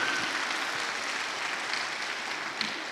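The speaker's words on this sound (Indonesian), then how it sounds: "tepuk tangan untuk beliau." Applause from the audience at a business and entrepreneurship gathering, a steady broad clatter of clapping that holds evenly for a few seconds with no voices over it.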